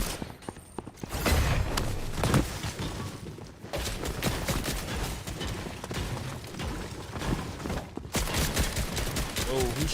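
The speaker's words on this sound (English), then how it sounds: "Oh, who's shooting?" Bursts of rapid gunfire in a battle royale video game, dense crackling volleys nearly continuous with short gaps, a voice speaking over the shots.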